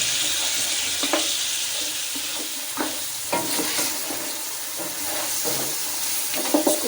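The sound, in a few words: mutton frying (bhuna) in a karahi until it changes colour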